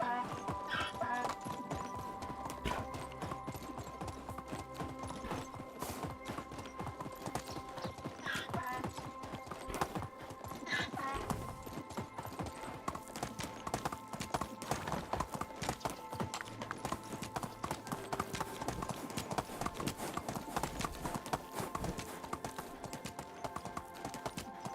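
Hooves pound steadily as a horse is ridden in the video game Medieval Dynasty, a fast, continuous rhythmic clatter that runs throughout with no voices over it.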